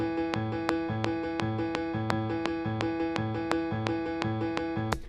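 A heavy video game theme's bass line soloed against a click track, with a steady metronome tick and a syncopated, punchy bass riff repeating in a tight loop, close and even in level.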